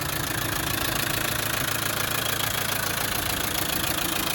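A military reconditioned Land Rover Defender 90 300TDi diesel engine idles with a steady, even chugging rumble, loud and constant throughout with no talk.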